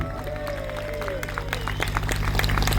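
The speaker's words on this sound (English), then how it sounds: "Big round of applause for the set-up team." Audience applause at a political rally, steady clapping from a crowd throughout with a low hum and some background murmur underneath.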